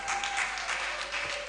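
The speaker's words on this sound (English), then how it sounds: "Please clap for me." Dense applause from an audience at a church youth seminar for boys, a steady roar of many hands clapping throughout, fairly loud with no voices.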